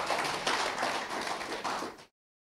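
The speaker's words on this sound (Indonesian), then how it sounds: "Berikan tepuk tangan yang mari kita lakukan." Congregation clapping during a Sunday worship service at GBI Katharizo church, a dense, fairly soft round of applause lasting about two seconds before cutting off abruptly.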